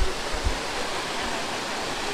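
Steady broadband rush of water pouring down a waterfall at a scenic spot, a continuous loud roar heard nearby, with a couple of brief low thumps at the start.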